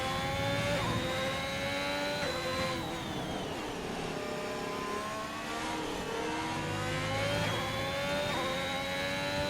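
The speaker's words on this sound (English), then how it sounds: "Got two cars racing to get themselves back to the line." Two race cars accelerate around a track, their engines revving up through gears with rising and falling whines, moderately loud and continuous with no voices.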